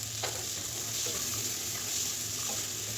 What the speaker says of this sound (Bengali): আর এবার খোসা ছাড়ানো বীজগুলো দিয়ে দিলাম